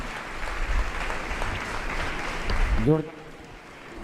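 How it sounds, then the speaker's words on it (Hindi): Audience applause at a women's honour gathering in the presence of a Jain monk, a broad clapping wash that gives way near the end to a brief voice and quieter room. "जोरदार तालियां बजाकर बहुत उनका ही उत्साह सुंदर वर्धन करें"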